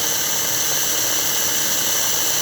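An American Flyer Pacific model train motor, refitted with ball bearings in the axles and armature, runs at a steady, smooth, high-pitched whine, close and continuous with no talk.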